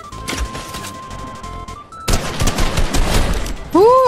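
Fortnite Battle Royale gunfight: a dense fusillade of rapid shots and crashing impacts, loud and close, with voices talking over parts of the action and a brief rising game tone near the end.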